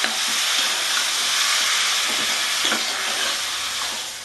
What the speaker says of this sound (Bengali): নুন দেবো দিয়ে আমি নাড়াচাড়া করে ঢাকা দিয়ে দেবো